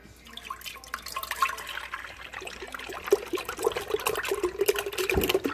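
Whole milk pours into a deep soup pot, a close liquid splashing and gurgling that builds steadily louder over several seconds and deepens in tone as the pot fills.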